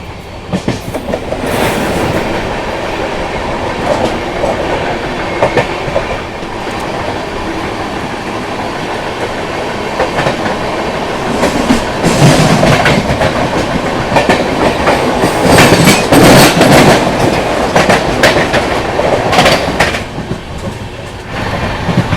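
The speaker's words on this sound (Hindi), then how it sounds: "कोलकाता जम्मू तवी एक्सप्रेस" A Kolkata–Jammu Tawi Express rolls along the rails with a loud, continuous rumble and rhythmic clickety-clack of wheels over joints, building in intensity midway, with no voices.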